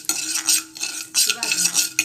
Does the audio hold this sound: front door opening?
no